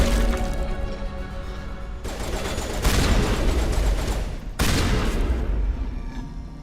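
Gunfire from the Mass Effect 1 Legendary Edition video game, a dense, continuous burst of rapid shots with booming impacts that swell loudly around the middle and again near the end, with game sound layered underneath.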